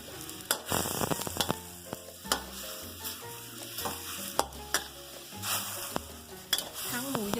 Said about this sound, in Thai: เราก็รวนจนหมูสุกค่ะ